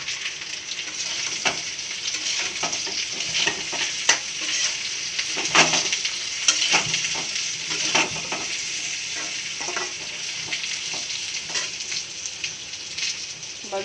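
Spices fry in hot oil with a continuous crackling sizzle while being stirred, scattered pops and scrapes ticking through at an even, moderate level and no voices.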